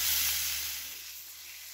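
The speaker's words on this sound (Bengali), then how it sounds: "আলুগুলোকে ভালো করে ভেজে নিচ্ছি" Potatoes frying in hot oil for a fish curry give a steady, airy sizzle and hiss that fades slightly toward the end, with no voices.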